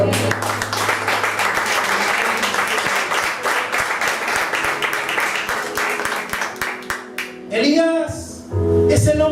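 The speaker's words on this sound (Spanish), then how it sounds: "¿Pueden aplaudir al Señor," A church congregation applauds the Lord, brisk rhythmic clapping from many hands that thins out toward the end, followed by a voice speaking briefly and some reverberant sound.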